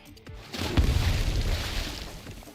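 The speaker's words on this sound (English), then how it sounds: "With the loud bang, Dagonbreaker's attack smashes a gigantic hole into the ice surface" A loud, deep boom from an attack in Arknights smashing a gigantic hole into an ice surface, with a heavy impact followed by a long rumbling tail.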